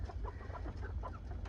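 American Bresse hens and a large rooster cluck softly and intermittently in a coop, a steady low rumble of the pen underneath and no talking.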